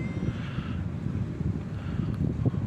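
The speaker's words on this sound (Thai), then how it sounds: "โอ้ ลมแรงมากครับตอนนี้นะฮะ" Strong wind on the Mekong riverbank at Nakhon Phanom, a steady low roaring buffet of gusts rumbling against the microphone, loud and continuous with no voices.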